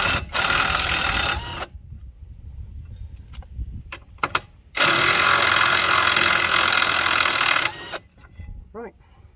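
Air impact tool removing front brake parts from a 1.9 TDI PD Seat Leon, two long loud buzzing bursts separated by a quieter gap with clicks and clanks, close up.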